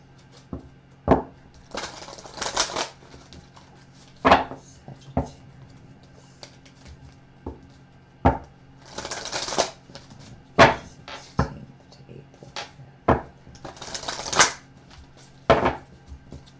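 Handling an oracle card deck: sharp, close slaps and riffling bursts recur every second or two, loud and alone with no talk.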